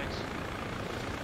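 Helicopter in flight within the ShackTac military game, a loud steady rotor and engine roar filling the moment without letup, heard from inside or very close.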